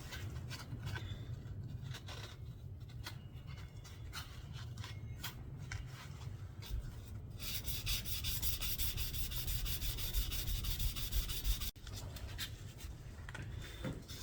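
A homemade knife blade is rubbed back and forth on 400 grit sandpaper, producing a continuous close, soft gritty scratching that intensifies in rapid strokes toward the end.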